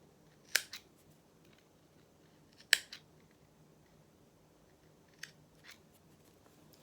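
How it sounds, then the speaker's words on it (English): Scissors snip notches into a fabric seam allowance on a sewn hat piece, a few sharp, close cuts spaced a couple of seconds apart, each with a small follow-up click, in a quiet room. "we can just put some snips in if we want to, or just do some triangles and take out some of that seam allowance"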